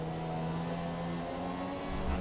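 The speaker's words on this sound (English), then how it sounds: "I can hear noises from the engine" A Formula 1 race car engine in the F1 2017 video game drones steadily and loudly with a sustained whirring tone, swelling slightly near the end.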